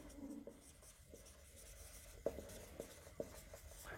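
A pen writes on a board during a physics lesson, faint close scratching strokes with a few sharp taps.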